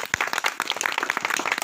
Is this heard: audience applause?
yes